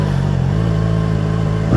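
A ZXMOTO 500F inline four-cylinder motorcycle engine runs at a steady idle, with a smooth, continuous low drone close by and a slight swell at the very end.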